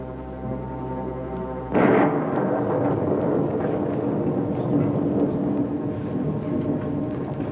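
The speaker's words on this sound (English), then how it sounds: "He says the sound of the storm is bothering him." A low, broad rumble of a storm swells in suddenly and keeps rolling steadily, heavy and loud throughout.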